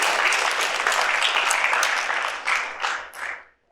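An audience applauds at a high school award night, a steady wash of clapping from a crowd that thins into a few last claps and stops.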